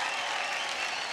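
An audience at the Superstar Singer Season 3 singing show breaks into loud, dense applause that holds steady without a pause.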